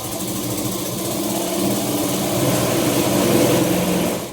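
Electric motor of a sewing machine, run by a foot pedal while stitching a blouse, hums in a steady, fairly loud drone that swells slightly toward the end, with no voices.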